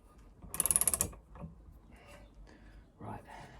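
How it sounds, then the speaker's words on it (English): Socket wrench ratcheting on a nut while fitting the alternator and fan shroud of a CB Performance 2017cc engine build, a quick run of about ten sharp clicks followed by faint shuffling and a low voice. "Let's hope you don't mash up this nut trying to torque it with a 38 mil socket rather than the correct one."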